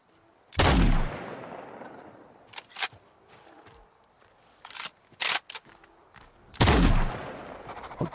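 Gunfire in the video game Nightingale: a few loud, close gun blasts spaced several seconds apart, each with a short decaying tail, mixed with smaller clicks and thuds between them.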